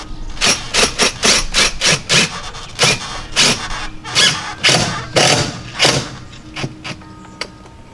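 Power driver fitted with a long 1/4 inch drive bit, used while mounting an outdoor light fixture: a dozen or so short, loud bursts of whirring and rattling, close by and spaced irregularly, with no talking.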